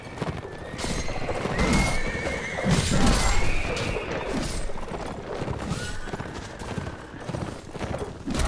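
In the video game Mount & Blade: Warband, a horse whinnies loudly as it goes down in battle, with hoofbeats clopping and crashing combat noise around it.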